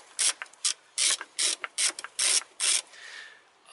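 A ratchet hand tool loosening a bolt on a car or truck throttle body clicks in short, close bursts, about eight quick ratcheting strokes separated by brief pauses.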